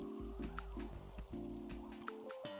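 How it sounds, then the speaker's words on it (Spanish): Soft pattering rain in the PC game Latte Stand Tycoon, a faint steady wash beneath looping game music with occasional droplet plinks. "Súper nublado con esta lluvia."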